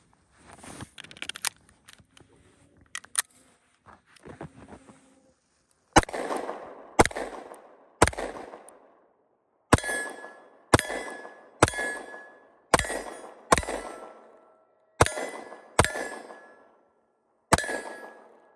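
Ten rounds of Tula ammunition fired from a Springfield Hellcat pistol: sharp, loud cracks in an irregular sequence with brief ringing decays, preceded by quieter clanks of handling.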